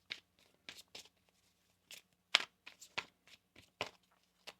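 Tarot cards are shuffled by hand in a series of quick, crisp riffles and soft slaps, about a dozen separate bursts close to the microphone with short quiet gaps between them.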